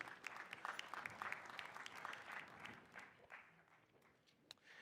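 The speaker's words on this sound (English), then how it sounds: "Round of applause one more time, please." Applause from the audience at the Apple Music Super Bowl LX halftime show press conference, with crisp dense clapping that swells and then thins, fairly faint overall.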